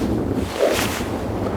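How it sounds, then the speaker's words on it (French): Wind gusts across an open golf course, buffeting the microphone in a steady low roar that swells briefly midway, with no talking. "Le vent commence à souffler"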